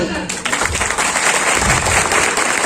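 Loud, dense applause from a crowd at a company anniversary event in a hotel in Pilibhit, India, steady clapping that starts abruptly and continues throughout.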